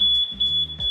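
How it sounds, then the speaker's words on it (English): Smoke detector alarm in a web-based fire detection system sounding a loud, steady high-pitched tone that runs continuously, with faint background rumble and no talk. "To simulate the second fire alarm level, we must trigger 2 smoke detectors."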